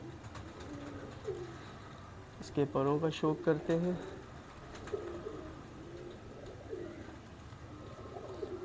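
Teddy pigeons giving a short burst of low, rolling coos in the middle, heard under someone talking, with light background noise throughout.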